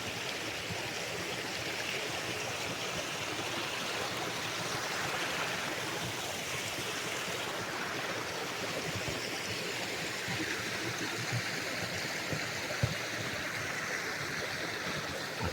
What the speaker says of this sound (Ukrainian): Там внизу біжить річка.